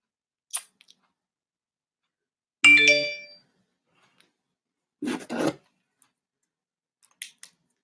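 A phone gives a single short tonal ring, bright and close, set among scattered rustles and handling noises in an otherwise quiet room.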